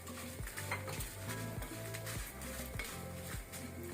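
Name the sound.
roasting spices and dry red chillies in a pan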